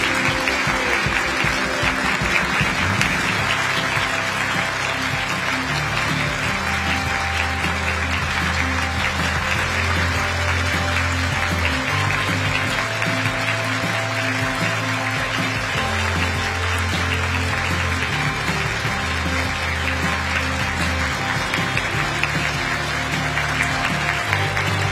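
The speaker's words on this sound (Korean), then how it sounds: "여러분 계속해서 큰 박수로 환송해 주시기 바랍니다." An audience at a special lecture for newly appointed national civil service managers applauds as President Lee Jae-myung departs: steady, dense clapping that carries on without a break for the whole stretch, loud and close, with no voices over it.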